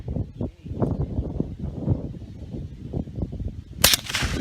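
A single sharp shotgun blast cracks out near the end at an outdoor shooting lesson, following a stretch of murmuring, rustling background noise.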